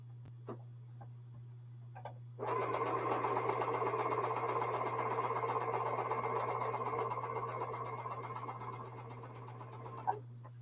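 A domestic sewing machine runs steadily for about eight seconds, stitching pairs of jelly roll quilt strips end to end, its rapid needle hum close and even, with a low constant mains tone underneath and quiet before and after.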